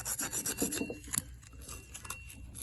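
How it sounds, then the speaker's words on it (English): Wax being scraped and rubbed out of the oil holes of a new Rootes 1725 cc crankshaft, heard as quick, close rasping strokes that start busy and then thin into quieter, scattered scrapes. "it pushes all the wax out of the holes, so you've got to clean all of these out"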